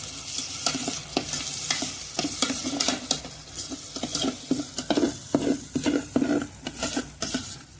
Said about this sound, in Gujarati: ટમેટા નાખી દેવું, પછી હલાવશું।